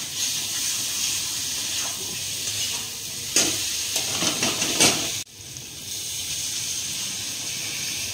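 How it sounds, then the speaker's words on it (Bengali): Steady loud sizzle and hiss of a hot pan for egg curry, with a brief burst of stirring and splashing as water goes in, then a sudden drop to a softer bubbling hiss. "এবার আমি জলটা দিয়ে দেবো, ফুটালেই হয়ে যাবে।"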